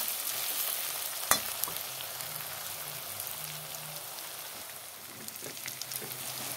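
Onions fry in oil in a pan with a steady, even sizzle, a single sharp clink early on, and no talking.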